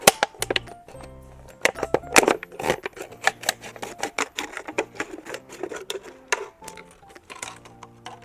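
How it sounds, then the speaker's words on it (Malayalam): Scissors snip through a plastic bottle in a series of close, sharp crunching cuts with uneven rhythm, loud against a quiet room. "സോ ആദ്യമായിട്ട് നമുക്ക് ഈ കുപ്പിയെ ഒന്ന് മുറിക്കണം"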